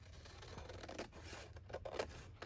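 Scissors cut through paper during a vintage-style journal crafting session, a faint, close snipping and rustle over a couple of seconds.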